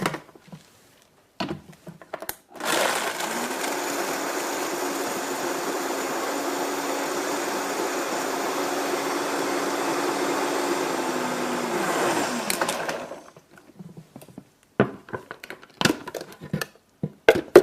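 A Vitamix blender runs on ice and raw ingredients for about ten seconds, a loud, steady roaring whir that starts abruptly and cuts off, with clattering handling noises before and after.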